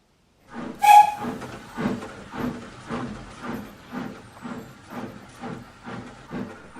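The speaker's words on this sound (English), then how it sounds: "As Spencer blew his whistle and departed for York, Gordon was left gazing up" A steam train whistle gives one short, sharp blast as the engine departs, followed by a rhythmic series of chuffs and hissing exhaust beats that pulse steadily at moderate distance, with no talk.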